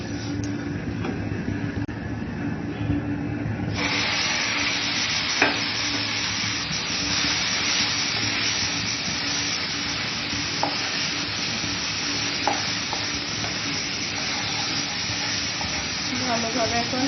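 Shredded cabbage tossed into a hot pan for a Bengali-style ghonto sizzles loudly and steadily, with faint scraping and a few light knocks of the spoon as it is stirred.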